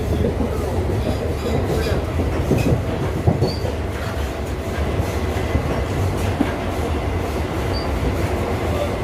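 A MEMU passenger train between Katwa and Ahmedpur rolls along the rails with a continuous low rumble and faint wheel clatter, heard from inside the carriage at a steady level.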